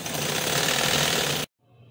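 A sewing machine stitches a trim strip onto a poncha, running loud and steady in one continuous burst before cutting off abruptly into near silence.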